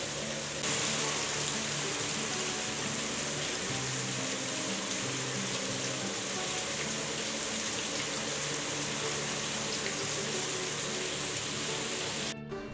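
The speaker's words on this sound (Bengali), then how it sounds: "তো আবারও কিন্তু বৃষ্টি শুরু হয়ে গেছে।" Heavy rain falls over a street in Dubai as a faint, even wash of hiss and low rushing water, steady and continuous with no voices.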